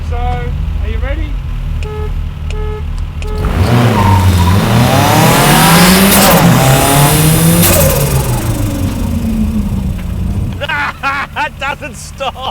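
A Volkswagen buggy engine fires up and revs, then accelerates hard in a loud rising and falling roar before dropping back to idle, with people talking over it at the start and end.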